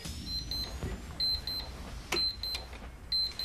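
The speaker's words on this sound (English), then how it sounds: "It's a puzzle alarm clock, and it won't stop beeping until you've done a bit of maths." A puzzle alarm clock with a 1970s sci-fi look gives off bright, repeated short electronic beeps in clusters over a low background hum.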